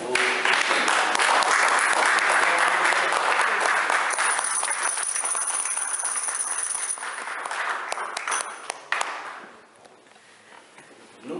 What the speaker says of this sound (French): On se met et nous acclamons très fort